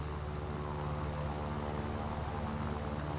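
An XP-55 propeller aircraft engine drones in the War Thunder game, heard as a constant steady hum at moderate level throughout, with no speech over it.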